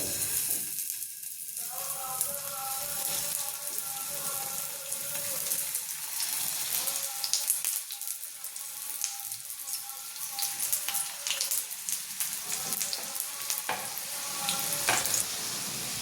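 Paneer, spinach and pea cutlets frying in a little oil in a hot pan, a continuous hissing sizzle with crackles and occasional utensil taps, steady and close throughout, no talking.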